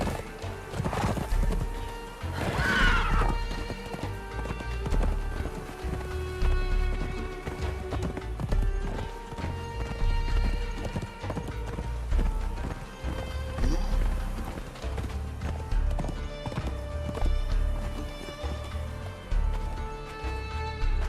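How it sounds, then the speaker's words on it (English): A horse in the video game Conan Exiles gallops with rapid, rhythmic hoofbeats and lets out a loud neigh near the start, while someone talks over the steady clip-clop. "Hop on horse. Let's go. Let's go, horse."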